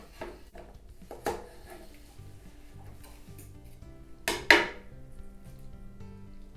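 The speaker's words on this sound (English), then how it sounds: "Now I'm gonna take the other part of that springform pan, put it over the top, open that up. And I'm gonna flip it over." Metal springform pan parts from a Ninja Foodi meatloaf knock and clatter as the pan is set over the top and flipped, a few sharp close clanks, the loudest near the end, with quiet gaps between.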